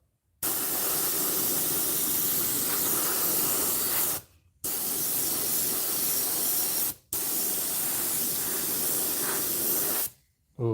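Spray paint hisses from an aerosol can in three long, loud, steady bursts with brief silent gaps between them, close up and without talking.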